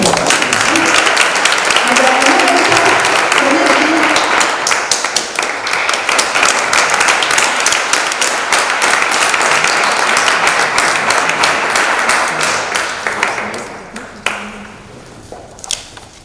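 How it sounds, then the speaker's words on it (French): A hall audience at a municipal ceremony breaks into loud, sustained applause from many hands, a dense close-up patter that fades near the end into a few scattered claps. "On peut applaudir quand même Nicolas."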